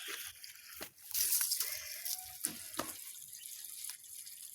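An outdoor tap runs water in a steady splashing stream, close by, with a few knocks and handling noises over it.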